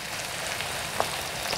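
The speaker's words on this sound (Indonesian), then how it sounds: "Ini kita tumis sampai bawangnya ini harum ya." Chicken with onion, ginger and garlic stir-fries in a pan, giving a steady soft sizzle with a faint clink of stirring, no voices over it.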